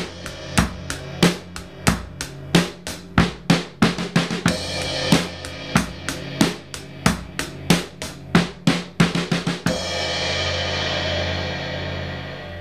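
A drum kit plays a single-stroke fill of eighth and sixteenth notes, a run of sharp close hits that speeds up and ends in a crash cymbal with bass drum that rings out and fades.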